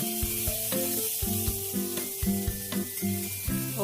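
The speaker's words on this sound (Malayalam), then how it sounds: "ചെമ്മീൻ വെളിച്ചെണ്ണയിലേക്ക് ഇട്ടിട്ടൊന്ന് ചെറുതായിട്ടൊന്ന് ഫ്രൈ ആക്കിയെടുക്കാം" Prawns shallow frying in coconut oil in a pan for a prawn roast, a steady sizzle partly masked by louder melodic background music with regular plucked notes.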